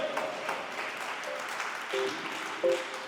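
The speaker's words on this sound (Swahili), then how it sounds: "Mpigie Yesu makofi." A Pentecostal church congregation claps loudly for Jesus during a service. The steady, crowded applause runs throughout, with faint tonal notes, likely from a keyboard, sounding over it.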